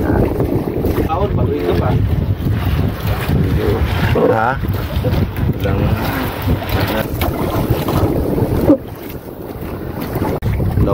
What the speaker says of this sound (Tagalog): So malakas yung hangin.